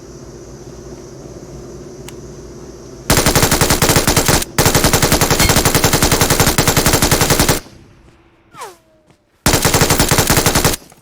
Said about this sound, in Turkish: Bana biri sıktı bir yerden